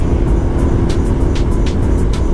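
Suzuki DRZ motorcycle riding and cornering on the road, a loud, steady engine drone mixed with heavy wind rush throughout, close and unbroken, with no talking.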